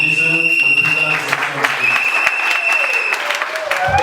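Audience applause at a political gathering in Cameroon, steady clapping from a crowd under a loud voice with sustained tones over it, near and fairly loud.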